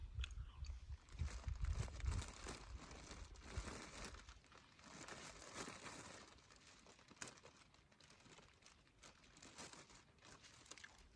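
Quiet, close-up crunchy chewing of dried figs with crinkling plastic rustles, steady and soft throughout with no talking, outdoors on a hike in Alaska.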